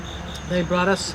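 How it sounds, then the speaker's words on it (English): Steady high-pitched chirring of crickets outdoors on an evening in Kentucky, a continuous faint background layer beneath a brief spoken phrase. "you can hear the crickets in the background"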